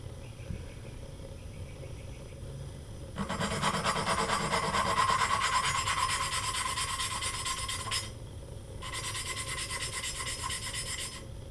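Continuous rough rubbing and grinding scrapes close up as valves are lapped on a Honda CB 125 K3 cylinder head, starting quietly, swelling louder in a steady stretch, briefly stopping, then resuming.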